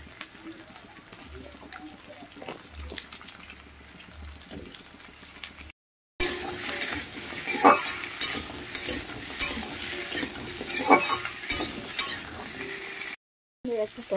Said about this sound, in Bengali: আলুগুলোকে পেঁয়াজের সঙ্গে ভালো করে ভেজে নেব।